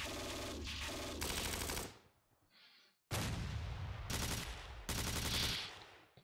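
Bursts of rapid gunfire in the World War II strategy game Steel Panthers, set in a 1944 campaign: loud rattling volleys, a short near-silent pause, then further heavy bursts.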